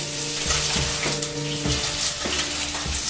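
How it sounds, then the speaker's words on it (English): Salmon fillet searing in a smoking hot pan, a loud continuous sizzle with hissing spatter and occasional knocks of the pan. "So now we have a nice smoking hot pan. Let's try to place our fish in it."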